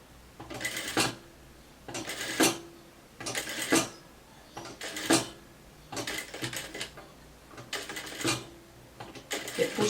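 A home sewing machine runs in short repeated bursts while stitching a gathered ruffle down the middle of fabric, about seven runs of whirring with brief pauses between, close and moderately loud.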